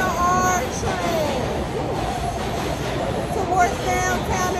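A New York City R subway train rumbles steadily in the station with faint metallic squeals, while people talk nearby over the constant rail noise.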